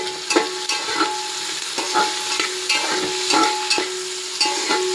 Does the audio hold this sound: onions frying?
yes